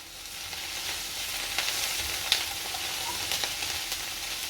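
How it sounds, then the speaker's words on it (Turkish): Oyster mushroom pieces fry in oil in a pan over medium heat, a steady close sizzle with occasional soft crackles and stirring, no voices. "Gördüğünüz gibi güzelce kızarıyorlar."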